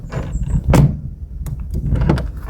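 A heavy door on a 23-year-old 2003 VW Passat B5.5 sedan swings open and shuts with a solid thunk, followed by a second close-up latch knock, all without talk.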